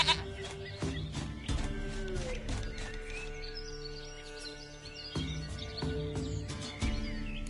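A goat bleats repeatedly in The Witcher 3, each short wavering call breaking over a quiet ambient background.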